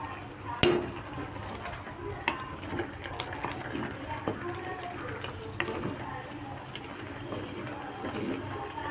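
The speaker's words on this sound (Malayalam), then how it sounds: "ചട്ടി എടുത്തിട്ട് ഞാൻ മെല്ലെ ഒന്ന് ഇളക്കി കൊടുക്കുകയാണ്." Sardine peera simmering in a clay pot as it is gently swirled: a continuous soft crackle and sizzle with scattered clicks and light knocks, close and fairly quiet.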